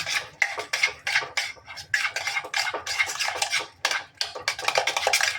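Homemade ghee being stirred or whisked in a pot, a steady run of rapid scraping and clinking strokes of utensil against metal, close and fairly loud, with short pauses between bursts.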